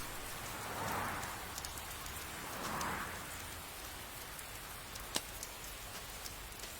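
Steady rain falling and pattering on surfaces, a faint, even hiss with soft drips and one brief sharp tick near the end, no talking.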